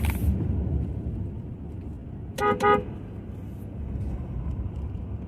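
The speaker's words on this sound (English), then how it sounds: "Hear that horn blast?" A car horn honks twice in quick succession, loud and close, standing out briefly over a steady low rumble of road and engine noise.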